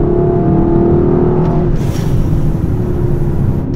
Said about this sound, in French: Oh, la reprise! Ça vous colle dans le siège